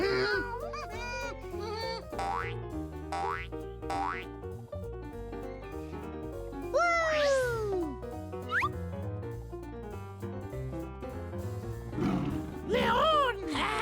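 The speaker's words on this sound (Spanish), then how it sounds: "¡León!" A lion roars amid bouncy cartoon music in a children's animal-sounds song, its growls rising and falling over steady backing with springy boing effects scattered throughout.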